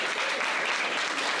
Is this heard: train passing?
no